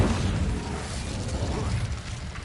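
Casting the Incendio fire spell in Hogwarts Legacy: a steady, dense rush of fiery noise holds at an even level throughout, without clear pauses.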